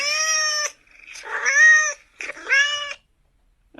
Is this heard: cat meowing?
yes